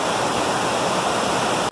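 Waterfall beside a trail along a river, a steady, loud broadband roar of falling water filling the whole stretch before cutting off abruptly at the end.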